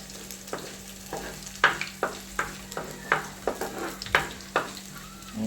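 Fenugreek with ginger and garlic being stirred in a hot pan: a steady sizzle broken by a regular series of sharp spoon scrapes and taps, close and fairly quiet, with no talking.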